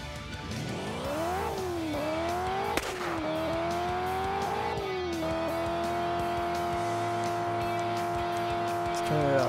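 Car drifting in the video game Drift Stage: an engine revs and shifts through rising and falling pitches with tire squeal, continuous and fairly loud, with a voice talking underneath.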